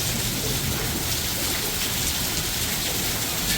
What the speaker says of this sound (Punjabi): ਇਹ ਸਾਰੇ ਗੜੇ ਨੇ ਗੜੇ ਬਰਫ਼ ਦੇ ਬਰਫ਼ ਪੈ ਰਹੀ ਹੈ